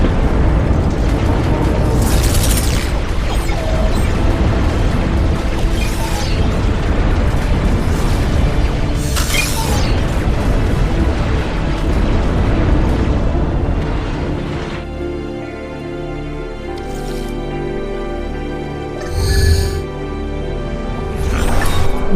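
Rumbling explosions as a nexus is destroyed in the real-time strategy game Ashes of the Singularity: repeated heavy booms with sharp bursts over a dense roar, then a quieter mechanical hum pierced by a few more pops.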